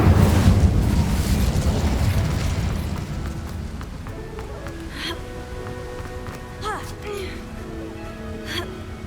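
A loud burst of the Incendio fire spell in the Hogwarts Legacy video game roars up at the start, then fades into a rumbling tail beneath soft musical chimes and ringing tones.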